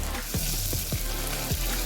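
Garlic and ginger hit a hot tempering of mustard seeds, cumin and curry leaves in a pan, giving a loud continuous sizzle broken by a few sharp scraping stirs.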